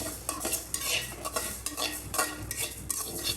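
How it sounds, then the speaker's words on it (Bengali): Mung dal being stirred and fried in a pan with a metal spoon, giving soft sizzling and repeated scraping strokes of utensil against the pan, close and steady with no voices. "মুগ ডালটা ভেজে নিচ্ছি"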